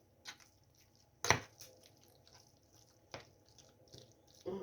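Dough for crispy chebureki is worked by hand in a home kitchen, with a few separate wet squelches and squishes spaced apart against quiet background hum and no speech.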